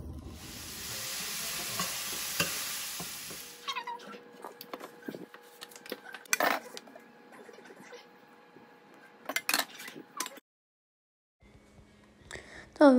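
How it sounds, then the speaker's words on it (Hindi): Washed cauliflower fries in a pan at home. A strong, close sizzle fills the first few seconds, followed by scattered scraping and clinking from stirring, a brief silence and a few sharp squeaks at the end. "तो बस अब इसको जल्दी से वॉश करती हूँ और इसको फ्राई करती हूँ।"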